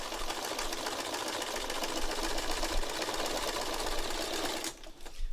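A sewing machine runs steadily, stitching through fabric in a continuous, close whirr that stops briefly near the end and then restarts.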